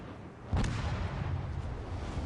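The Bismarck's secondary guns fire during a World of Warships Legends naval battle, a sudden booming report that rolls into a dense, rumbling roar of gunfire and distant impacts.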